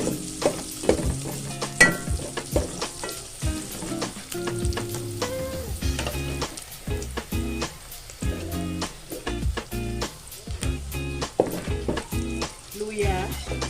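Garlic fries in a hot pan, giving a constant crackling sizzle broken by frequent sharp pops and the scrapes and clinks of a utensil stirring it, close and busy throughout.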